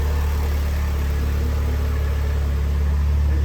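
A Mitsubishi Evo 9 idles steadily, its engine close and constant with a low, even hum and no revving.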